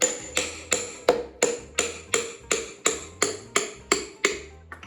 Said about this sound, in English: you use the bigger hammer on the small hammer